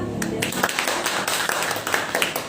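Audience clapping at a campus parliamentary forum, a loose patter of claps mixed with nearby voices and room noise, moderately loud throughout.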